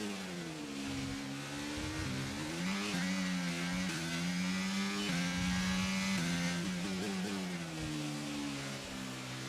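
A Ferrari Formula 1 car races in an F1 video game at the Azerbaijan circuit, its engine screaming loud and continuous, climbing and dropping in pitch through gear changes, with no talk over it.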